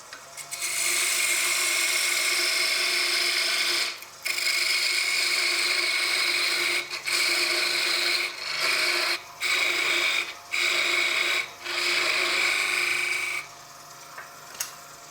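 Wooden peppermill blank being cut to a tenon on a lathe, a loud sustained scraping hiss of the tool on spinning wood, broken by several short pauses as the cut is lifted and resumed.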